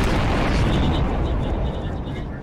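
A land mine explodes in the Garry's Mod video game, a loud, dense, low rumbling blast that stays heavy and sustained across the whole stretch, with voice faintly mixed in.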